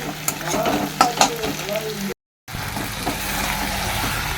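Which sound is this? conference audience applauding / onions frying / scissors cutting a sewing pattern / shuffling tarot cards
onions frying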